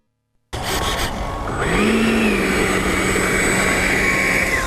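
An E-flite F-4 Phantom II 80mm RC electric ducted-fan jet spinning up from silence, a rising whine that climbs in pitch about a second in and then holds as a loud, steady close-range howl.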